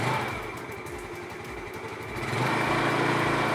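A motorcycle engine idles steadily at about 1,000 RPM, close and continuous, with a low, even throb that swells slightly toward the end.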